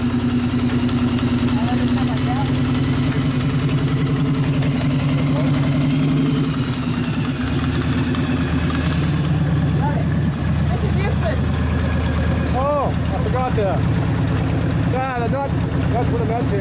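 A Harley EVO chopper engine idles loud and steady with a lumpy low rumble, while people talk over it now and then.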